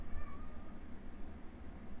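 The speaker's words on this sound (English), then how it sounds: "Are you gonna meow? Come on." A pet cat gives a brief, faint meow close by early on, over a low steady background hum, with no talking.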